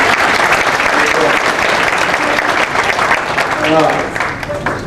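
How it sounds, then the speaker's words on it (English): A banquet crowd at a high school basketball gathering gives a loud, sustained round of applause that tapers slightly near the end, with voices murmuring underneath. "they need a big round of applause"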